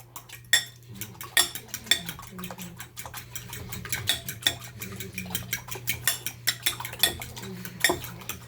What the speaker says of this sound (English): So I'm going to throw that in, and a 1/2 cup of milk. I'm going to whisk that up.